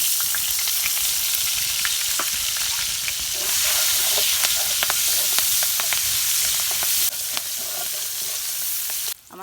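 Onions and chillies frying in a pan for a home-cooked surma fish curry with ash gourd, a loud, close, continuous sizzle broken by scattered pops and stirring scrapes, ending with a clank.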